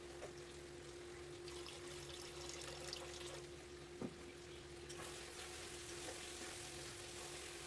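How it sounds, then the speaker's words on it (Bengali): Chicken curry pieces frying in their released oil in a wide pan, a quiet, even hiss with a single brief knock partway through and a low steady hum beneath. "আমি প্রায় আরও একটুক্ষণ ভেজে নেব"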